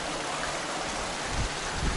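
A water stream flows beneath a bridge on its way to the sea in the Azores, a steady close rushing wash with low rumbling, no voices present.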